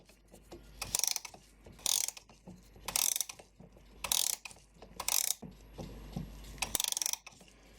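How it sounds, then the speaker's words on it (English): A Japanese 40-day wall clock movement has its heavy-duty mainsprings wound by hand, giving close, loud bursts of rapid ratchet-and-click ratcheting repeated about seven times, with short quiet pauses between turns. "We'll start off by winding up the mainsprings and putting a mainspring clamp on them"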